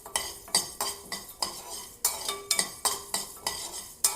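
Urad dal is dry roasted in a pan for a protein soup premix, a spatula scraping and tossing the dry lentils in a quick, regular rhythm of crisp rattling strokes, close and clear without talk.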